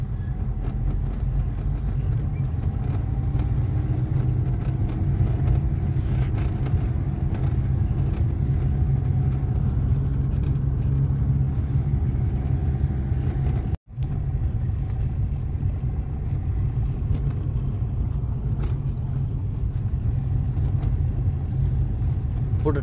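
Car driving downhill on a mountain ghat road during a light-motor-vehicle driving lesson, steady low engine and road rumble throughout with a brief dropout midway.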